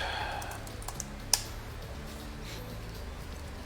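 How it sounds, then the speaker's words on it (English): Soft, sparse keystrokes on a wireless computer keyboard during a Photoshop session, a few light taps and one sharper click over a low steady background hum, fairly quiet and close. "I've got my wireless keyboard so that I can move it over here to the side"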